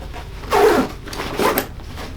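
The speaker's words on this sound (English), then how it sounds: "Zip that sucker back up." A zipper on a pocket of an Exo Mountain Gear 4800 backpack is pulled closed in two quick, close rasping strokes.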